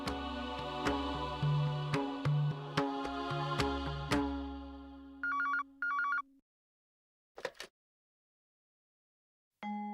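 A phone rings as a call is placed. A melodic ringtone plays over musical chimes, then short repeated electronic rings and later brief ring bursts separated by silence.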